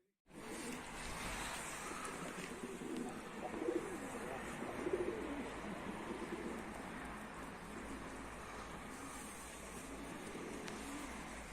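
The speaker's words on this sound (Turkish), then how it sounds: "arkadaşlar kuş geldi." Game pigeons at a coop in Mardin give faint, scattered coos under a steady roar of wind and outdoor noise that runs throughout.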